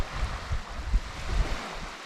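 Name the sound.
sea water washing over rocky ledges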